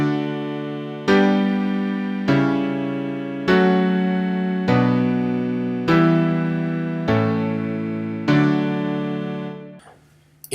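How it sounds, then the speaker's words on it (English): A standard circle of fifths chord progression plays on a sustained keyboard-like instrument: eight or nine evenly spaced chords, each struck cleanly and decaying before the next, loud and alone without any voice. "What you see in front of you right now is a standard circle of fifths progression"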